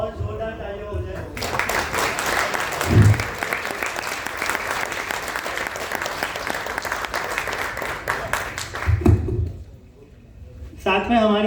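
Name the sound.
loud audience applause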